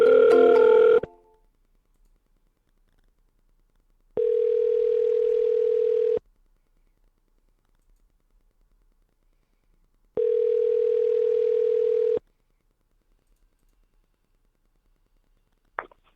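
An outgoing phone call rings back in two steady two-second tones spaced several seconds apart, after a brief burst of dialing tones, with near silence between rings.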